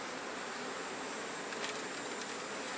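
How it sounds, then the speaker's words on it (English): Defensive honey bees buzz around a beekeeper's head at a hive inspection, a steady, dense drone close to the ear, with a brief louder swell as one passes near. "These bees are a little defensive"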